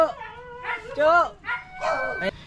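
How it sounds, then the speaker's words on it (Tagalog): A dog close by lets out several sharp, high yips and barks in quick succession, with a whiny, pitch-bending edge. "maingay pa yung aso"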